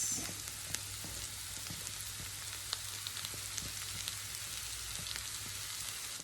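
Red onions and spring onion heads frying with spices for a chicken gizzard dish, a continuous dense sizzle with scattered soft pops, close and steady with no voices.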